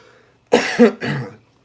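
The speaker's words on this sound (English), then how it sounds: "And I've still got a little bit of a cough." Three harsh coughs in quick succession from a person who is a little under the weather, close and fairly loud in a quiet room, with a short pause before each burst.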